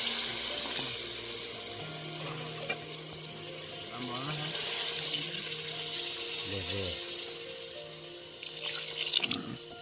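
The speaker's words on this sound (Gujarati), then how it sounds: "થોડુંક પાણી નાખી દેવું આપણે" Water runs and splashes into a pan in a steady stream, close by, with some clinks and a voice talking in between.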